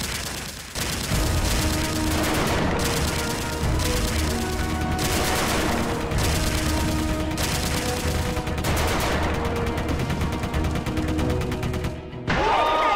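Toy or game guns fire together during a group shooting challenge on a variety show, a dense, loud burst of overlapping shots running almost continuously, with a brief pause just before the end.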